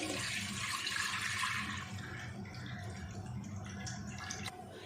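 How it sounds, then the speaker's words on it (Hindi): Milk pours into a pot with a steady, splashing gush that eases off midway into softer trickling and a few drips. "अब 1 लीटर दूध इसमें डाल देंगे।"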